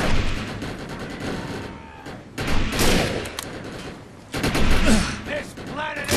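Gunfire from the Xbox 360 video game Defiance: rapid automatic bursts and heavy booming shots in clusters, loud and dense, with brief lulls between volleys and some game effects mixed in.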